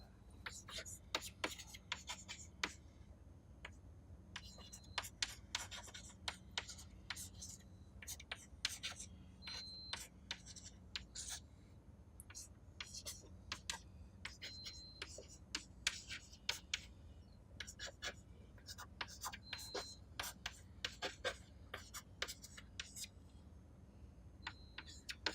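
Chalk or marker scratching and tapping on a board in a lecture room, with short irregular strokes that come and go steadily throughout, close and fairly faint, over a low room hum with a voice talking at times.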